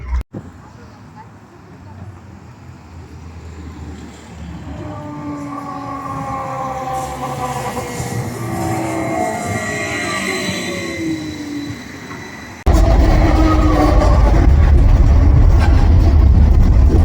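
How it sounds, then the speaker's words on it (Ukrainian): Tram ride in Kyiv: a rumbling, rising hum of the streetcar is joined by whining, tonal motor sounds, and a sudden, louder jump in noise comes near the end. "зараз швиденько на трамвай і їдемо з вами у проспект"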